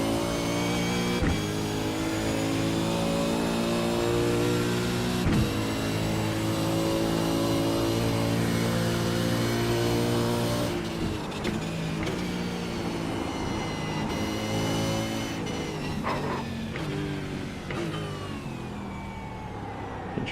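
Race car engine blasting up the back straight of a circuit, loud and close, rising in pitch through repeated gear changes with brief dips between shifts.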